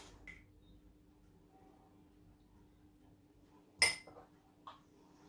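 A spoon clinks once against a measuring cup while scooping tomatoes for homemade pizza, a sharp close tap followed by a fainter knock in an otherwise quiet kitchen.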